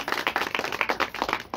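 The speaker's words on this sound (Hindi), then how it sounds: "तो एक बार सभी विनर्स के लिए जोरदार तालियां" Rhythmic clapping from a small group at a Modicare meeting, greeting prize winners with a steady run of handclaps, fairly close and with no talk over it.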